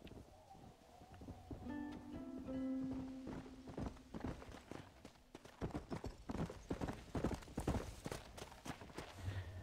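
Horse hooves clip-clopping in the Western video game Red Dead Redemption, a steady walking rhythm of hoof beats with a brief snort or whinny early on, and some game sounds layered in.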